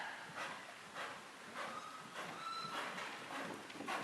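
Rhythmic, muffled hoofbeats of a horse moving at a steady pace during a saddle seat riding lesson, fairly faint and repeating about twice a second.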